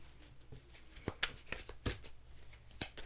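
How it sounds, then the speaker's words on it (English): Tarot cards are shuffled in a quiet room, giving soft riffling and a few sharper slaps and flicks in an uneven rhythm, close and faint. "Shuffle 3 more times, they told me."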